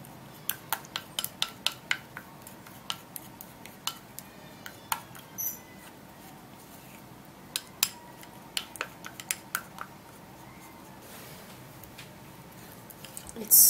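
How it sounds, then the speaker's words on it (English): A spoon or utensil clinks and taps against a bowl while an onion face scrub is mixed, giving irregular sharp clicks at a steady pace with a soft background hush and a louder knock at the very end. "So now I'll have to mix it and mix really well."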